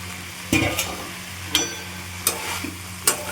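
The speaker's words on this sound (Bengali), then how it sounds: "মশলার মধ্যে পুরো মিক্স করে দিই" Mixed vegetables with coriander leaves fry in a spice mix in a pan, a steady close sizzle broken by about five sharp scraping strokes of a stirring spoon at uneven intervals.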